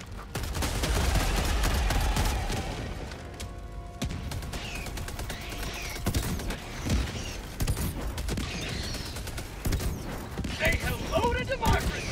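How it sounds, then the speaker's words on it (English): Machine gun turret fire in the Helldivers 2 video game, dense sustained bursts of gunfire with crashes and explosions throughout, loud and close, mixed with other game effects. "machine gun turret I'm shooting at."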